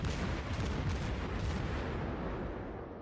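The Omaha cruiser in World of Warships fires high explosive shells in a dense, continuous rumble of overlapping gun blasts, loud and unbroken with no talking.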